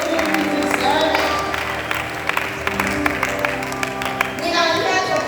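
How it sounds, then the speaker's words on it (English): Audience at a nurses' ceremony applauding steadily throughout, a dense wash of clapping with scattered cheers, mixed with music and a voice speaking over it. "Please clap for yourself."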